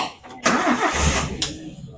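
The engine of a Mitsubishi Futura bus cranks briefly, then catches with a loud burst, runs roughly and surges again, all close by with no talk.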